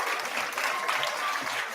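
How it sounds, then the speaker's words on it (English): An audience at a children's book awards ceremony claps in a sustained burst of applause, dense and even throughout. "Big round of applause for Liz Pichon and Michael Rosen."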